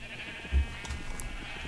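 Minecraft sheep bleat inside the video game while being herded out of a pen, a soft, fairly faint in-game baa heard against a steady low hum, with a brief dull thump near the start and no talking.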